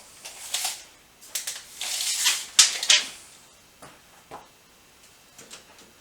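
A tape measure being pulled out and handled gives off a scattered series of quick ticks, rattles and clicks, close and fairly quiet, with short gaps between.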